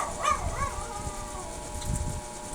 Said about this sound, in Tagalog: Ang ingay pa ng aso